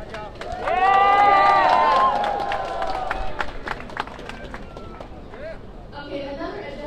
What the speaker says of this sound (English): let's give another round of applause to all these speakers who come and join us